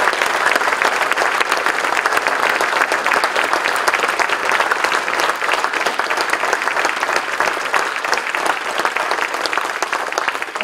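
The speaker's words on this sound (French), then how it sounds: "Je crois qu'on peut les applaudir." A crowd at a public meeting applauds police, gendarmes and firefighters, sustained loud clapping from many hands filling the room throughout without pause.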